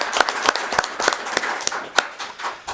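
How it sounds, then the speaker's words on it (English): A small group clapping in a city council chamber, a few distinct hands producing a loose, uneven rhythm of fairly close claps for under three seconds. "let's give them a round of applause for that."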